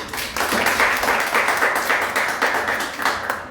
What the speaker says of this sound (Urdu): ہم سب ایک بار زوردار تالیاں بجائیں گے